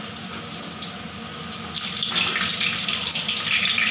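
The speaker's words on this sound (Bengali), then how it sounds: "কড়াইতে আমি তেল দিয়ে দিয়েছি পটলগুলো ভাজার জন্য" Pointed gourd (potol) frying in hot oil in a kadai, a continuous hissing sizzle that swells louder midway and stays strong to the end, with no voices.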